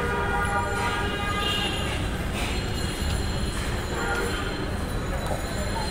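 A Dhaka metro rail train at Shewrapara station gives a steady, loud rumble with a faint high whine above it, continuous throughout and heard amid the station's ambient noise.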